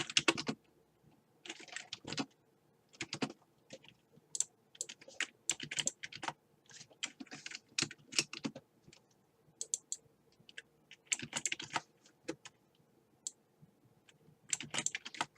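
Keys clatter on a computer keyboard in irregular bursts of quick taps separated by short pauses, close and fairly quiet.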